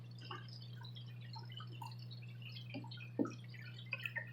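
Water trickles and drips as it drains through a bell siphon in a home aquaponics setup, a faint irregular patter of drops over a steady low hum.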